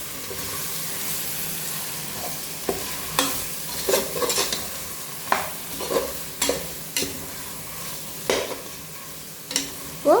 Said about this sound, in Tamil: இப்போ நம்ம போட்டு நல்லா வதக்கிக்கலாம்.